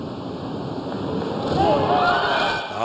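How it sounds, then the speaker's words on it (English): Synchronised pair of men diving from the 10m platform enters the pool in a final, a brief rushing splash rising out of a busy arena crowd roar, moderately near and blended with the steady hubbub. "There's a bit more of a splash than perhaps the Singapore pair"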